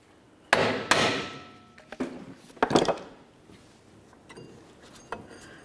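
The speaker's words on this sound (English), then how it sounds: "Just go ahead and use a hammer, or maybe even a pry bar," Several sharp metallic hammer blows knocking out a stuck rear brake wheel cylinder on a Ford Ranger ring out in an irregular sequence, a few close together and louder, then softer scattered taps.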